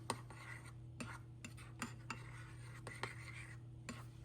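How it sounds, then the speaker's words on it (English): A spoon stirs oatmeal in a one-cup measuring bowl, making soft, quiet scrapes and light clinks that repeat roughly once a second over a steady low hum. "Stir it up."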